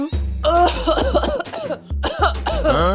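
A person coughs several times in quick, harsh bursts, close by and loud, with brief pauses between fits.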